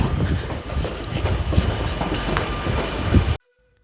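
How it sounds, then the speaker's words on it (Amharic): A metro train pulls into a station with a loud rumble, rattling wheel clatter and occasional squeals, running continuously before cutting off abruptly. "ወደ ሜዳው የምታደርሰን ሜትሮ ከች ብላለች"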